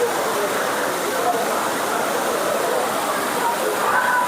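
Kuttalam waterfall in Tamil Nadu, running low on water. It makes a steady, dense rushing roar of falling water that stays even and close throughout, with no breaks.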